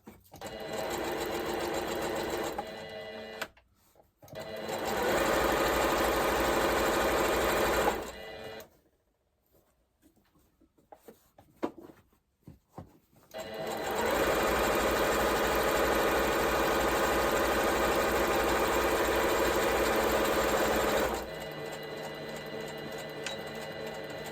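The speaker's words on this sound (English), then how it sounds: "what I'm doing is I'm sewing the sides" A sewing machine stitches the sides of a fabric shopping bag in three long runs of steady mechanical whirring, separated by short pauses and a longer near-silent gap, with a quieter hum at the end.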